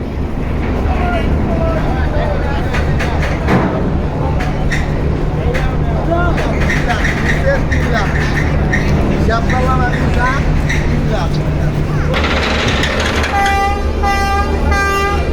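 Loud, steady low engine rumble of the Bangladeshi passenger launch Kuakata 2 going into reverse gear at a riverside ghat, with constant droning and a horn toot near the end, crowd chatter and voices throughout.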